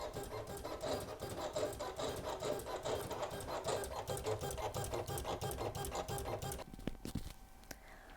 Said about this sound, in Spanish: Coloco la primera cartulina, la cargo y enviamos a cortar las piezas.